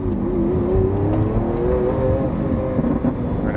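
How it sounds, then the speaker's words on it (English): A 2020 Lamborghini Aventador S engine heard from inside the car while driving, with a steady, close engine tone whose pitch shifts slightly over a few seconds. "Every time you downshift, it almost sounds like a whip."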